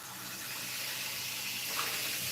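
Tap water runs steadily over lentils being rinsed in a kitchen, a continuous hissing splash at moderate level with no talking.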